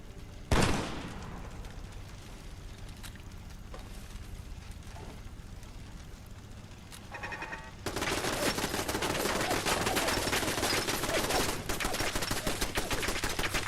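Automated turret gunfire in the video game Fallout London, rapid bursts growing into a dense, loud, sustained barrage in the second half, with no talk over it.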